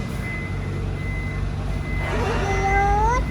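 A large truck reverses, sounding a steady high warning tone over low engine rumble. Near the end, rising wavering tones break in briefly.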